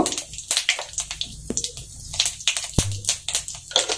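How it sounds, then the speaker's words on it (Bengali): Bay leaf, a dried chili, cumin and a pinch of asafoetida temper in hot oil, giving irregular, sharp crackles and pops over a low hiss, close at hand. "এখন ফোড়নে দিব একটা তেজপাতা, একটা শুকনো লঙ্কা আর জিরে, আর সামান্য একটু হিং দিয়ে দিব"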